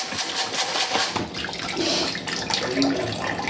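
Gold prospecting material is washed in a pan with water outdoors in Fairmont, giving a continuous close sloshing and splashing that rises and falls in waves.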